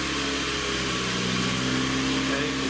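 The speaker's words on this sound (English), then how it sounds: "I'll have them start the engine for us." A car engine runs loudly and steadily right after starting during a battery test, a close continuous droning hum with no pauses.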